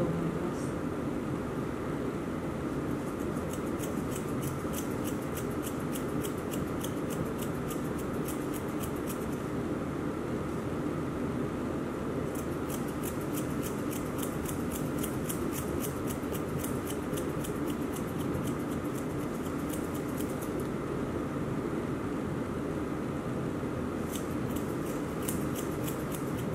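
Scissors snip steadily in rapid repeated bursts while trimming a Miniature Schnauzer's fur close to the toes during grooming, with brief pauses between runs of cuts, over a constant soft background hiss.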